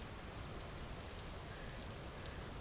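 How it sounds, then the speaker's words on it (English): Steady rain falls in Vintage Story, a constant dense hiss of drops spread evenly across the whole stretch, with no pauses and no voices. "So don't wonder if the rain never stops."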